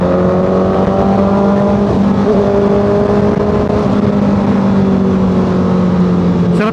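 A loud, steady inline-four engine of a 2025 Honda CBR650R drones continuously at close range, a smooth high-pitched buzz holding nearly constant with slight pitch shifts throughout.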